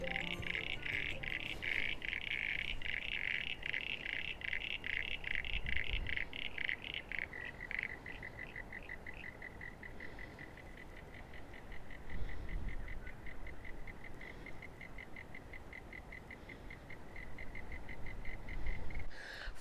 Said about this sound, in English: Frogs are going nuts.